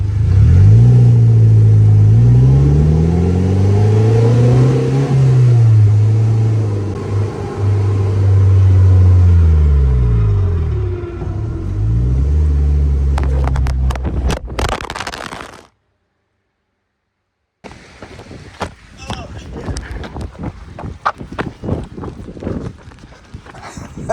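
A loud three-wheeled roadster engine drones and shifts pitch as it drives, then cuts out briefly before rougher road and wind noise resumes.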